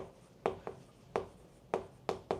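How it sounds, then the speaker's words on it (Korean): A math equation written out by hand, several short, crisp scratching strokes of pen or marker at an uneven rhythm, close and quiet against a hushed room. "한번 써볼게요."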